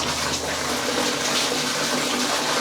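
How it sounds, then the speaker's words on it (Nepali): Water splashes and runs steadily while clothes are washed by hand, a continuous, fairly loud wash of sound with no talking. "अपन लुगा धुइटुवास"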